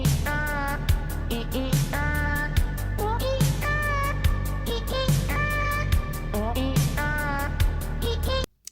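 A meme song built from cat meows set to music, a rapid run of pitched, sung meows over a steady beat, loud and continuous until it cuts off abruptly.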